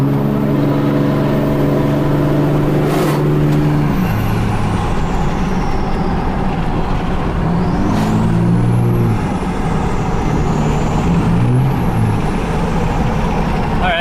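A Cummins diesel truck on a race tune pulls hard, its loud engine roar rising steadily under a sharp air-brake-like hiss at the start, with whistling turbo tones sweeping up and down over the drone.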